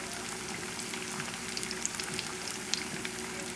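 Chicken tidbits coated in corn flour batter fry in hot oil, giving a steady, dense sizzle with scattered crackling pops close by, continuous and without talk.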